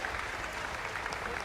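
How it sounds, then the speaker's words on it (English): An audience at a Gamers8 Fortnite Zero Build tournament applauds the champions, a dense, steady wash of clapping from a crowd with no voices rising above it. "Please, yes, put your hands together."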